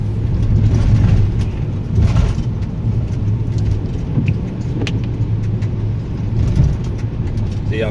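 A car drives along a road through snow, mist and fog, giving a steady close rumble of engine and tyres with small rattles. The noise stays even throughout.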